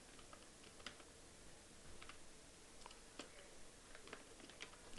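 Very faint, rapid clicking of a computer keyboard as a comment is typed into a PHP and MySQL comment form, steady patter of keystrokes with no voice.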